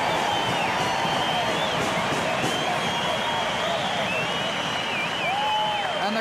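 Football crowd at a 1994 Collingwood vs Aboriginal All Stars match, a loud continuous roar and cheer filling the ground, with a commentator talking over it throughout.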